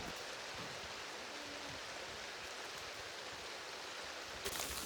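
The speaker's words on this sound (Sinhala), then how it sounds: "නේ ළඟ හොඳටම වහිනවා." A steady, hissing wash of heavy rain falls continuously, soft and even, with no voices.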